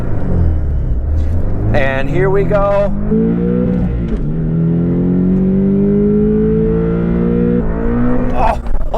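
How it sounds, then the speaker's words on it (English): A 2021 Porsche 718 Boxster T with the base engine and six-speed manual revs hard, its rising engine pitch swelling loud and near over several seconds as someone talks over it. "That is my right foot doing the revving."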